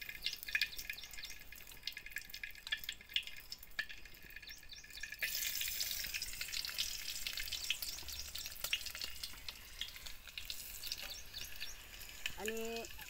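Garlic cloves fry with chicken liver in a pan for a dry liver dish, a steady close sizzle and crackle running throughout with small drips and stirring clinks.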